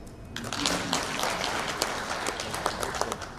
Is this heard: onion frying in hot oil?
no